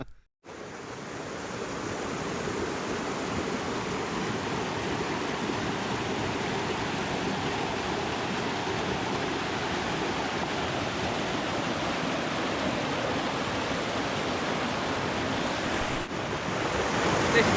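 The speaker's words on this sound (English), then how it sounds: "You're meant to cross this raging river." A raging river rushing across a hiking path, its dense, steady roar of water close and loud, unbroken from start to finish.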